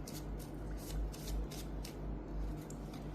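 Tarot cards being shuffled by hand during a card reading, a soft repeated riffling and rubbing in close, rhythmic bursts of about a second each, fairly quiet with no talk.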